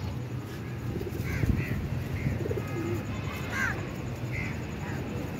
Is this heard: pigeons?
yes